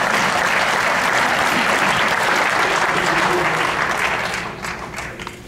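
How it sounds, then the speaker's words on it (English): Audience at an induction ceremony gives a loud, sustained round of applause from many people, full and even before fading slightly near the end, with some crowd voices mixed in. "Let's get a round of applause"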